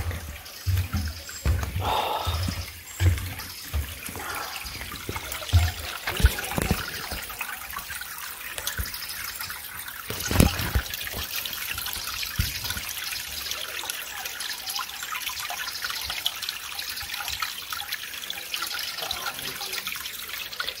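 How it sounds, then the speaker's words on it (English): Gentle water trickles and dribbles steadily through a small creek in Germany, with scattered small splashes and a faint wren call or two in the background. "We can get some sunlight on the trickling water."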